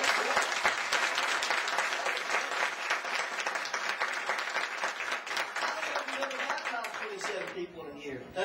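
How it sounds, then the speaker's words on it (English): A church congregation applauds with dense, sustained hand claps of praise for several seconds, loud and close, tapering slightly at the end, with voices audible beneath the clapping. "Give the Lord a hand clap of praise."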